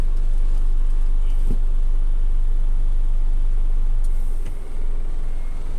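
Isuzu pickup with a worn-out clutch idling as the driver shifts into reverse, a steady, loud, low engine rumble with a faint clunk midway and a slight dip near the end, no talking.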